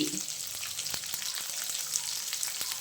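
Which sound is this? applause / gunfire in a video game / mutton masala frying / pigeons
mutton masala frying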